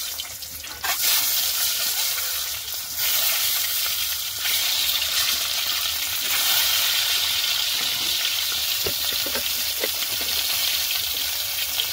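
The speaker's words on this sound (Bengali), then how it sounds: "তেল গরম হয়ে গেছে, আবার ডিমগুলোকে ভেজে নেবো।" Eggs fry in hot oil in a pan, a steady, moderately loud sizzling crackle with occasional sharper pops, continuous and without talk.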